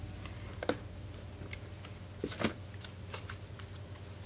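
A tarot card deck being shuffled, with soft riffling and light ticking taps over a low steady hum, quiet and close.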